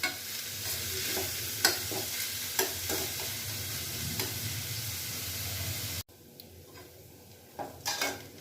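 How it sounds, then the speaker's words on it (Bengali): Sliced onions fry in a pan for chicken keema masala, a steady sizzle broken by repeated scraping clicks of a spatula stirring against metal, before the sound drops abruptly to a quieter hiss with a few more stirs. "পেঁয়াজটা ফ্রাই করে নিয়েছে।"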